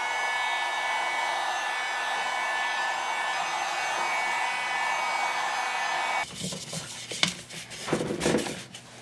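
A heat gun blows a steady hiss of hot air onto craft foam being shaped into a dragon egg, running alone for several seconds before stopping, followed by some handling clatter and knocks.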